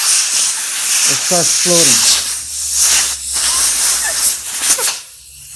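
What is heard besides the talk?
compressed air nozzle blowing under a handlebar grip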